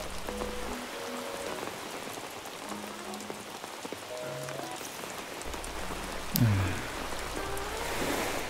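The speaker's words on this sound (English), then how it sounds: "Feels so nice with the rain." Steady rain patters on the ground in Animal Crossing: New Horizons, a soft even hiss with faint game tones and chimes scattered over it and a brief low thump near the end.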